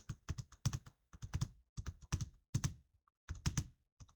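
Keys clatter on a computer keyboard in quick bursts separated by short pauses, close and fairly quiet, with no voice.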